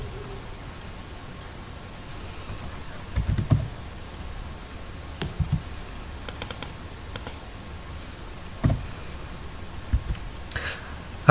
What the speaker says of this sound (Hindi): आप टैब प्रेस करेंगे अपने कीबोर्ड से,